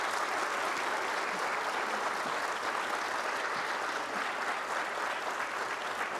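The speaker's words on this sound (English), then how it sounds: "could we do a round of applause for our candidates and our moderator?" Sustained applause from the audience at a League of Women Voters 10th District candidate forum, steady and even, moderately distant, with no talking over it.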